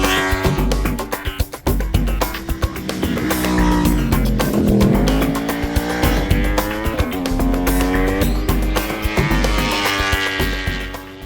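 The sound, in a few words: racing motorcycle engine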